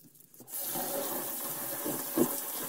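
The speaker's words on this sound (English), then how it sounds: "the first thing I'm going to use to try and clean my hands here is going to be the generic hand wash" Hand washing under a running tap with generic hand wash to scrub ink off the skin, a steady close water rush starting after a brief quiet moment and running to the end.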